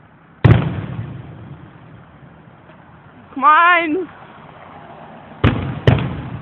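Fireworks explode outdoors in three sharp, loud bangs, one early and two close together near the end, with a voice speaking briefly and a whistling, warbling firework tone in between.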